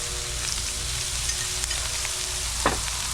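Cooking oil sizzles steadily on a Blackstone outdoor griddle, a constant close crackling hiss with a few small pops and a brief scrape near the end.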